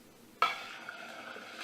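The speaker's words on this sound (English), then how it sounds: "you see the retained heat is cooking the egg really quickly" Egg dropped into a very hot cast steel pan greased with clarified butter: a sudden sharp sizzle that settles into a steady, close frying hiss.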